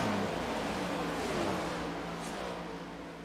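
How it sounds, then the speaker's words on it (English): Race cars at Michigan International Speedway sweep through the turns, a broad steady engine roar that swells and slowly eases off in the distance, with no talk. "Love the sound of these cars going around the turns."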